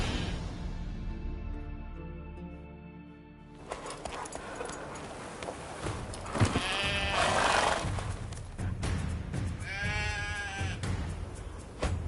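Sheep and goats bleat in The Witcher 3 ahead of a sacrifice, several animals calling repeatedly in wavering cries, fairly close and clear, over a low droning background with no talking.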